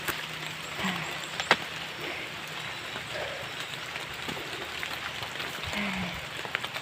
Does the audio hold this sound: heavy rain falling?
yes